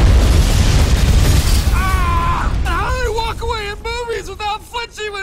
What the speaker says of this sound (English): When it explodes behind them, there's no way!